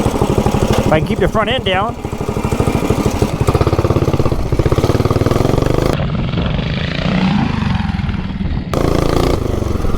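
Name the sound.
420cc minibike engine running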